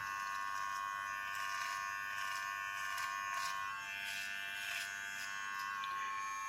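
Brio Beardscape electric shaver, a Blackout limited edition, running steadily with a high, thin motor whine and faint cutting buzz throughout, moderately quiet and close, with no talking.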